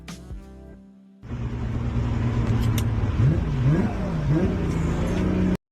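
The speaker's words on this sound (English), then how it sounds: "here we've got a Supra, and we're hearing some downshifts." A Toyota Supra's engine drones steadily, then downshifts with several quick throttle blips that make the pitch rise and fall. Cabin road noise sits underneath, and a brief burst of other sound comes just before the engine starts.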